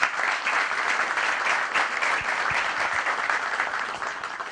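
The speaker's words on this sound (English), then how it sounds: "let's clap hands for Kelvin as he comes through." Steady applause from a crowd, dense and continuous clapping throughout with no voices standing out.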